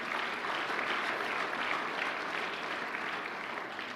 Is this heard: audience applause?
yes